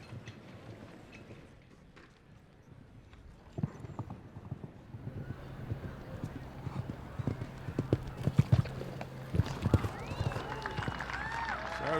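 Horse hooves clip-clop across the arena during a show jumping round at the AIG Million 2017, with scattered thuds and landing impacts growing busier toward the end amid crowd murmur and commentary voices.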